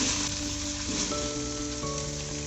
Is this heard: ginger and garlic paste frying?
yes